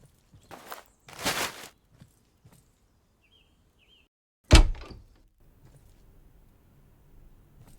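In the game Low-Budget Repairs, a house door opens with one loud, close thunk that trails off, after a few softer knocks and shuffles and then a stretch of near silence.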